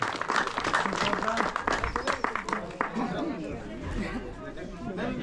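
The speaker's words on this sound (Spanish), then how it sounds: "Y los aplausos." A crowd applauds at the award ceremony of a pejerrey fishing championship in San Isidro, Cochabamba, Bolivia, with steady clapping mixed into loud, continuous crowd chatter and voices.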